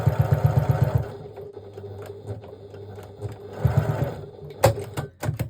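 Sewing machine top stitching PUL (polyurethane laminate) fabric on a snack bag, running in two loud rhythmic bursts with a quieter pause between and a few sharp clicks near the end.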